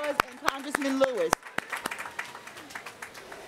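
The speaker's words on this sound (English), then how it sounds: "Let's give the family of the Kilsons a round of applause and Congressman Lewis." Commencement ceremony audience at Lincoln University of Pennsylvania breaking into scattered clapping after someone speaks, a few loud sharp claps at first, then a thinner patter of applause that trails off.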